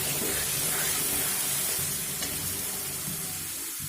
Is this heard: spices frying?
yes